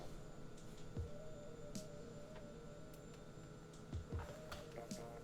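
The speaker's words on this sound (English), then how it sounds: "I think you guys can hear my washing machine." A washing machine runs in the background of a room, a low steady mechanical hum and drone with faint periodic thumps, quiet and continuous.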